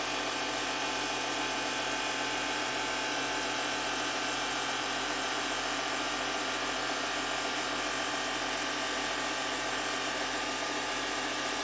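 A 2014 Audi Q7 TDI air suspension compressor runs steadily as the rear end rises in lift mode, a constant mechanical whir and rattle holding at an even, fairly quiet level throughout with no talking.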